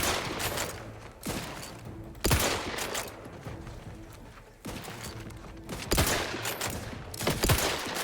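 Bursts of gunfire from The Outer Worlds 2 played on very hard difficulty, with several loud volleys spread across the clip over ambient game sound and clanking mechanisms.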